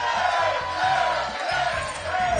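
A game show studio audience shouts and cheers encouragement in loud rhythmic bursts, close and energetic, with chanted pulses repeating several times over a continuous crowd din.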